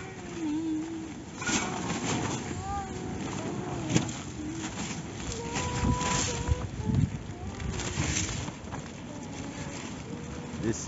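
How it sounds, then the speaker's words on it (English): Strong north wind gusts against the microphone outdoors in Albania in November, a steady broadband roar with louder surges throughout, and faint voices or whistles beneath it. "This is a powerful north wind."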